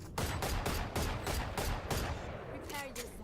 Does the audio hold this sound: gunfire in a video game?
yes